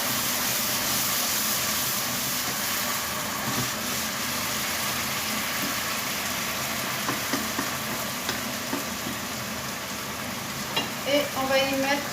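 Chicken strips cooking in a pan with a splash of white wine, a continuous sizzle broken by occasional spoon scrapes and stirring, with a sharper crackle burst near the end.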